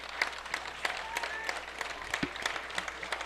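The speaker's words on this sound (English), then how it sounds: "It's a nice crowd a nice hand from this Nekoosa crowd." A high school football crowd at a Nekoosa game gives scattered, fairly faint applause, with uneven hand claps coming from the stands at some distance.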